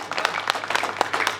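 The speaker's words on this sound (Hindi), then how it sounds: "आप सबकी जोरदार तालियां" Audience at a Hindi poetry gathering clapping for a folk-song poet, a brief burst of steady applause heard alone.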